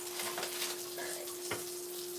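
Sausage and bacon frying in a pan for a Sunday breakfast, with a steady broadband sizzle, a constant faint hum and a brief clink near the end, no voices.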